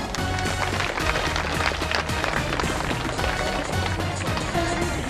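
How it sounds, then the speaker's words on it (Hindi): A crowd claps hard and fast at a stage event, a dense, loud, unbroken patter of many hands with no pauses for the full stretch. "तालियां बजाओ।"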